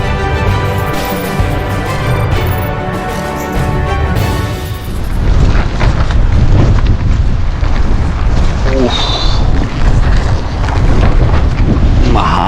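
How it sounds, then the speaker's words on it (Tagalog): Heavy wind buffets the microphone outdoors during dumpster diving, with a constant low roar and rumble, and faint voices come through underneath it. "Mahangin, mga katropa."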